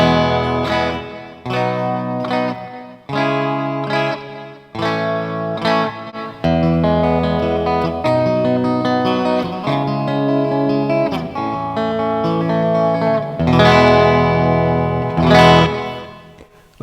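A Rafferty "Espresso Martini" Jazzmaster-style electric guitar on its bridge pickup plays strummed chords and notes, loud and close with effects and some grit, in phrases with brief pauses, and no speech.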